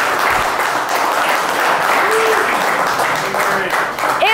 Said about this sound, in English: we should applaud that